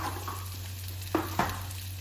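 A spoon stirs amla and green chilli pickle with turmeric, garam masala and ground red chilli, making a continuous hissing rustle with two sharper scraping clicks over a low hum.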